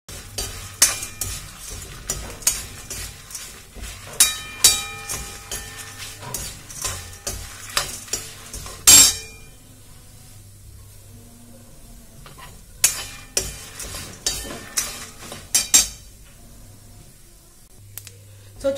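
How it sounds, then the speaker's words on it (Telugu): Tempering spices sizzle and fry in a pan for an ivy gourd and onion curry, with steady stirring and clinks of a metal spoon against the pan, loud and close, briefly quieting midway before the stirring resumes. "సో చూసారు కదా ఫ్రెండ్స్, పోపు వేగుతుంది."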